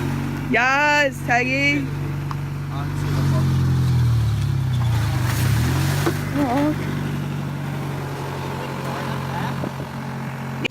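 An Infiniti G35's engine runs with a low, steady hum after starting, while excited voices talk and cheer over it close by.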